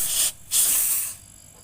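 Compressed air blasts in loud, close hissing sprays, blowing old oil out of the filter of a two-door refrigerator that won't make ice; one short burst, a brief gap, then a longer spray that cuts off.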